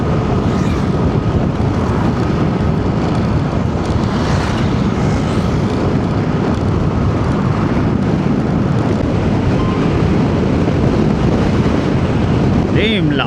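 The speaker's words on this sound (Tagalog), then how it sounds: "Damn, lakas ng hangin." Strong wind buffets the microphone in a constant loud roar while riding along the Morong and Bagac road in Bataan, with no clear voices over the noise.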